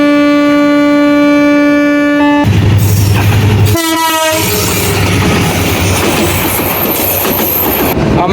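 A train horn sounds in a long, loud steady blast on a rural Bangladesh line between Rangpur and Kurigram, then the departing train's engine rumble and rolling wheel clatter continue close by, with a second horn call midway.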